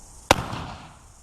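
A CVA muzzleloader rifle loaded with Pyrodex powder fires one sharp, loud outdoor bang, the crack followed by a short fading rumble and echo.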